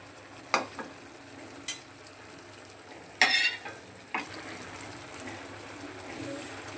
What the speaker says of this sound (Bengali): এখন ঢাকনাটা খুলে বাটা মশলা দিয়ে দিব।